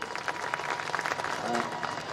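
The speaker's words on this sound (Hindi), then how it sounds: "एक बार जोरदार तालियां बजा दीजिएगा आप लोग।" Audience applause at a Hindi kavi sammelan poetry recital, a steady spread of clapping lasting about two seconds at moderate loudness, with a voice faintly audible underneath.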